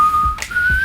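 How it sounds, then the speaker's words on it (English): A single steady whistled tone holds for most of a second, with a brief upward slide partway through, close and clear. "Do a little whistling while he's preparing."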